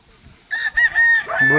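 A young white stag rooster crows once, close and loud, a short strained call rising and breaking near the end.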